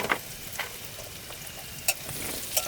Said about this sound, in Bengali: রসুন দিয়ে দিলাম সবুজ বাটা